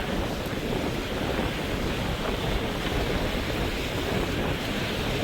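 Rough sea surf churning beneath a bridge during a storm in Jaffna, a steady, loud, continuous roar of water mixed with gusty wind noise on the microphone, with no talking.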